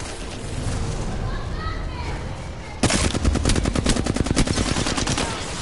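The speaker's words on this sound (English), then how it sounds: "They're shooting at me." Rapid gunfire bursts in the Apex Legends video game, played as Caustic, crackle loudly in dense repeated volleys over continuous battle noise, with a player talking throughout.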